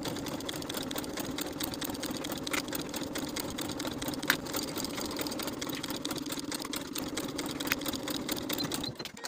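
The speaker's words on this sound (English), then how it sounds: "Then we can sew this seam with a 1/2-inch seam allowance." Sewing machine stitching a half-inch shirt seam through pinned yoke layers, a steady continuous mechanical whir running evenly at close range for the whole stretch before stopping at the end.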